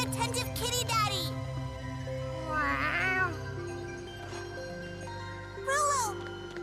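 Cat meowing in the Tales of Xillia 2 video game, several rising, wavering meows spaced across the clip over a steady background music hum.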